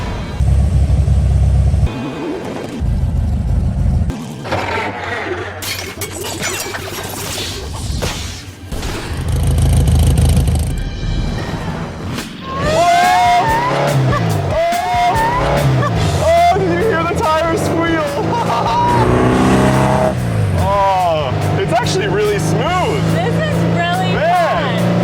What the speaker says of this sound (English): I've never driven a car this old before.